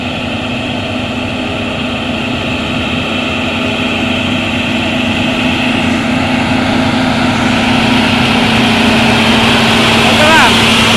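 A convoy of five palm oil tanker trucks climbing an incline, heavy engines droning steadily and loudly throughout with a constant low hum that slowly builds, voices talking over it.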